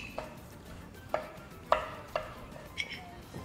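A knife rough-chopping food for a ham omelette on a board: five or six separate, fairly faint chops spaced unevenly, with quiet room noise between them.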